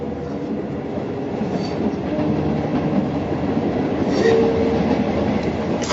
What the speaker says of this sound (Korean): 형 프랑스와 함께 기차에 올랐습니다